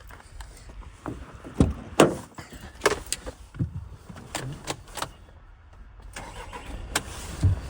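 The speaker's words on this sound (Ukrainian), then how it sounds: "Давайте ще наостанок заведемо автомобіль, послухаємо, як працює двигун" A 2022 MAN TGE van engine cranks and catches amid several sharp clicks and thumps, then runs quietly in the background.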